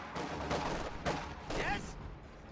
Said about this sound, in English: Taking AT fire.